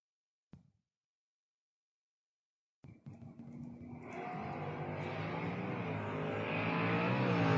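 A wood hauler and a 4th gen Camaro launching at a drag strip: after a short silence, engine roar bursts in and builds steadily louder, a dense rising rumble without speech.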